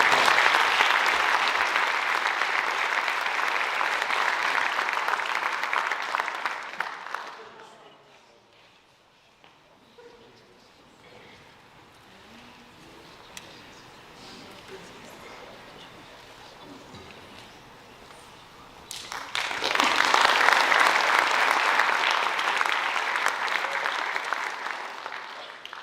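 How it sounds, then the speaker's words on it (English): Audience applause at a senior awards night: a full room claps steadily for several seconds, fades to quiet murmur, then breaks into a second loud round of clapping. "Please give these students a round of applause."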